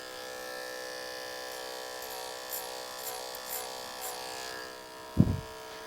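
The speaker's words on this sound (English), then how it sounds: "So that clipper is going to move straight up." Electric hair clipper buzzing steadily while cutting a comb-over with hard part, a continuous close hum with a sharp brief burst near the end.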